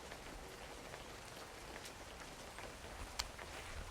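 Rain falls steadily in a soft, even patter on surfaces outdoors, with a single sharper drop tapping near the end and no voices.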